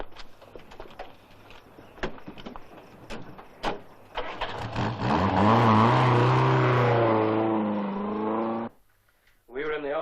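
A car in the film Night of the Big Heat: a few door clunks and knocks, then the engine starts and revs loudly and steadily before cutting off abruptly, followed by a brief hiss.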